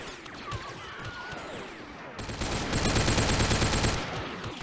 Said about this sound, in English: He was still shooting at the ground